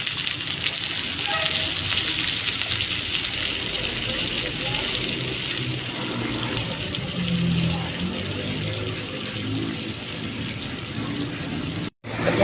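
Second coconut milk poured into a pan of salmon belly strips, a steady broadband liquid gush running throughout with a few faint clinks, over a constant background wash.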